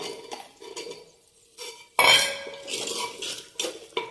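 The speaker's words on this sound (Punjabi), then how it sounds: "ਹੁਣ ਨਾ ਆਪਾਂ ਇਹਦੇ ਵਿੱਚ ਪਾ ਦਿੰਨੇ ਆ ਆਲੂ" Potatoes tipped into fried masala in a cooking pot and stirred for a green chickpea curry, a sudden loud clatter and splash at the midpoint, then scraping, clinking utensil strokes against the pot.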